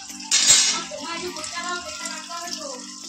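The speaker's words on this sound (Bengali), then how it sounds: "বাবা কলের নিচে কল মনে খোলা যাইস না, না পড়ছে হ্যাঁ পড়ছে, জল পড়ছে, জলটা পড়ুক" Tap water runs steadily into a sink while leafy greens are rinsed, with someone talking over the flow.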